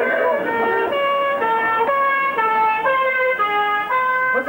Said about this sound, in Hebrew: האמבולנס. מה זה האמבולנס הזה?